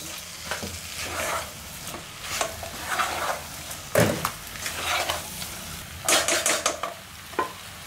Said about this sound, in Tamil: இப்போ இந்த இறால எடுத்து போட்டுக்கலாம்